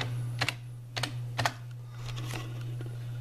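A few crisp keyboard keystrokes tap out in quick clusters at close range, typing commands into an OS/2 Warp 3 command prompt, with a steady low hum underneath.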